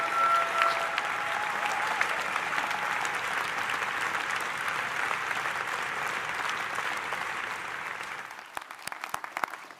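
An audience at a speaking event with an astronaut breaks into sustained, dense clapping that holds steady, then thins out and fades toward the end.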